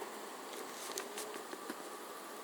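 Honeybees buzz around a swarm trap that has been moved a short distance, a faint continuous drone with a few brief louder passes as individual bees fly near.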